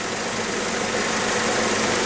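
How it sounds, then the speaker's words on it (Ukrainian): A Great Wall Hover engine idles steadily after a timing belt kit replacement, a smooth, even mid-pitched hum with a cooling fan blowing, close and continuous, no talk. "Зараз у нас дує і вентилятор, і мотор заведений, і бачите, наскільки він тихіше працює."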